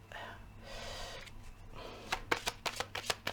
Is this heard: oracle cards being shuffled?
yes